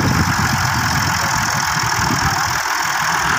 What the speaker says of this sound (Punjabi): ਅੱਜ ਹੋਰ ਭਾਈ ਦਾ ਟਰੈਕਟਰ ਆ